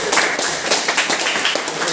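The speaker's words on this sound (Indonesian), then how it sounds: "Kasih tepuk tangan." Classroom of students clapping after a group presents its work checking a clutch plate, a dense steady patter of many hands lasting throughout.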